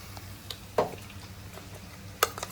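Masala of ginger, garlic, cinnamon, cloves, coriander seeds, cardamom, cumin, coconut and poppy seeds fries with onions for a mutton curry, a quiet steady sizzle broken by two sharper stirring clinks.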